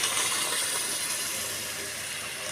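Water poured into a pan of half-cooked cauliflower curry with tomato, potato and peas gives a steady, loud hiss and sizzle lasting the whole moment, with no talking.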